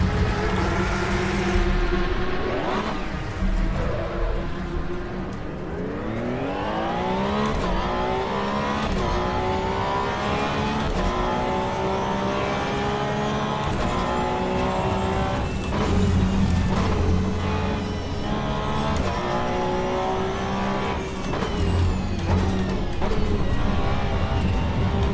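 Race car engine in the Assetto Corsa Evo video game, circling the Bathurst track, revs loud and continuous, rising through the gears with repeated climbs and shifts.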